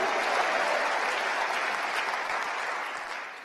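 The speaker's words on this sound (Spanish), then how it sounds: "Démosle palmas al Señor, hermano." A church congregation claps together in sustained, dense applause during a worship service, loud and steady before easing off slightly at the end.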